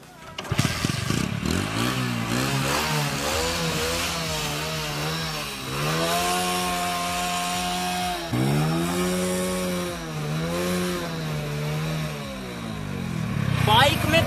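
A motorcycle engine running on diesel fuel idles roughly and revs up and down in a steady, close drone, rising in pitch a few times, with a voice heard briefly.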